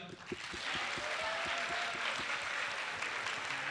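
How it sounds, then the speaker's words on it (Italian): Audience applause at a school presentation, a broad wash of clapping held steady throughout under a faint voice, moderately distant and even. "Un applauso per la regia."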